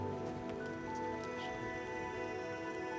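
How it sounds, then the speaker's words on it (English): Rain falls steadily on leaves in an autumn forest, a dense, even patter that stays close and continuous, with no voices over it. "Hopefully this rain eases off, which it has now actually."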